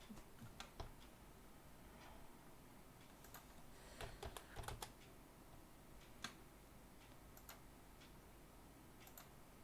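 Keys tapped on a computer keyboard while entering a command during a Windows password reset, in scattered quiet clicks and short bursts over a low background hum.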